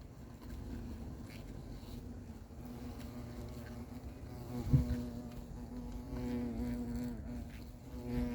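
Hornet buzzing at a beehive apiary in Crosne, a continuous insect drone with a brief louder burst near the middle and a steady hum throughout.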